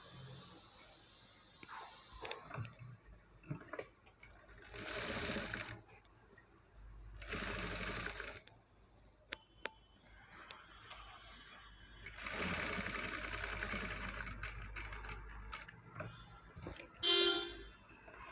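A sewing machine stitching invisible piping onto a pot neck, with several bursts of rapid mechanical whirring separated by quieter pauses, faint and close, with no one talking.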